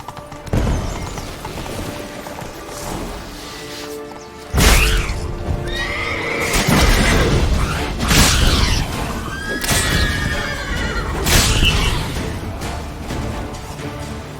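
A horse in The Witcher 3 video game, from the Blood and Wine expansion, gallops with steady clip-clop hoofbeats and lets out several loud neighs and whinnies, close and prominent throughout with no talk.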